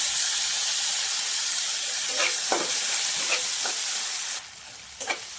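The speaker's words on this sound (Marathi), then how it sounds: "कांदा चांगला परतला की त्यामध्ये टोमॅटो टाकून घेऊ" Onion and tomato sauté in a pan with a close, steady hissing sizzle broken by a few stirring scrapes, after which the sizzle drops sharply and quiets. Nobody speaks.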